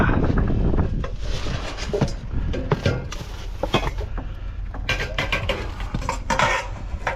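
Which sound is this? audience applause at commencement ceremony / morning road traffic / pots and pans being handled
pots and pans being handled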